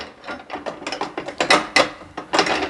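Fastening hooks are screwed in by hand on a Suntec Typhoon X1000LP industrial fan, giving a quick series of close ratcheting clicks and scrapes in uneven bursts.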